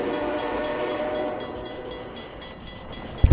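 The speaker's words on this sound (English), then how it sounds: "Oh my god, it's a train!" A train rumbles past in the video game Half-Life 2, a steady loud rolling roar with faint rhythmic clatter, ending in a few sharp low thumps.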